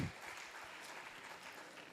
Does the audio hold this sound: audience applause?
yes